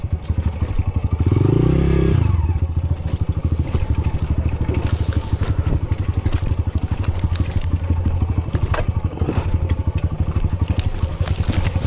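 A motorcycle carries a guide on a mountain trail on Mt Tapulao, its engine chugging steadily and close by with clattering and scraping over rough ground, and a loud revving burst near the start.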